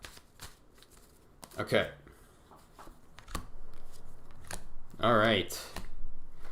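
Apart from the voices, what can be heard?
tarot cards being shuffled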